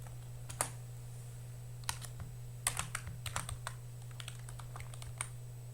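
Keystrokes on a computer keyboard while entering Python commands, scattered clicks and short bursts of typing over a constant low electrical hum, close and fairly quiet.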